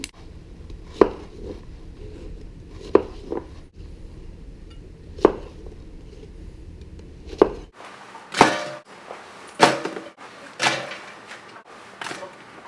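A chef's knife knocks down onto a cutting board while onions are cut for chicken stock: a few spaced single chops, then a quicker run of sharper cuts near the end, with no speech.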